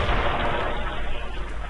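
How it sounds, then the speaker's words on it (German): A grenade in Fallout 3 exploding on direct impact: one loud, dense burst of noise that fills the short clip with no gap, and no talking. "bei direktem Aufprall im VATS explodiert die Granate sofort"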